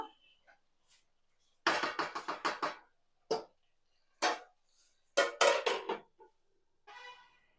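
A spoon clatters against a pot of tomatoes being stirred in a home kitchen, in short sharp metallic bursts separated by silence, ending with the clink of a lid set on top; no talking.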